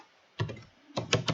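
Keystrokes tapped on a computer keyboard: a short burst of two clicks, a pause, then three more quick taps, close and crisp.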